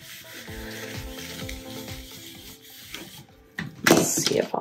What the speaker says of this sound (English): Scrape it back down.